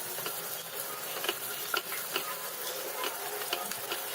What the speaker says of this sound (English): We're going to fry the onion till it's nice and translucent.